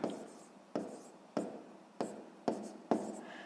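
Pen strokes scratch out a math solution for a sixth-grade fraction exercise, six crisp taps of writing at an even pace, each followed by a short scraping trail, close and quiet.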